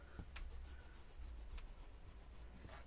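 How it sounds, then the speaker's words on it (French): A rubber eraser rubbing on folded scrapbooking paper during a pop-up card tutorial, making faint, quick scrubbing strokes in short bursts with no talk. "Ensuite, je vais gommer ça."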